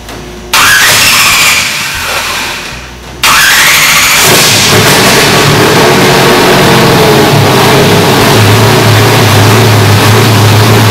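A car engine fed from an ATL fuel cell cranks, catches and fires up, then settles into a loud steady running idle, close up with no talk.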